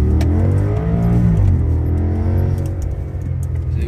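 An Audi S8 engine revs hard and loud, climbing and falling through the rev range with a dense, throaty roar that fills the whole stretch, with no voices.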